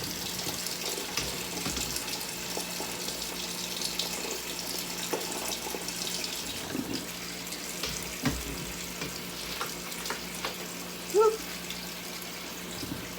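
Hot water runs and splashes in a kitchen sink while canned potatoes are rinsed, a steady soft faucet-like wash with scattered faint clinks and one brief louder splash near the end.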